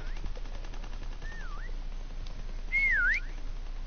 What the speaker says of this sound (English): Oh shit, that was me whistling.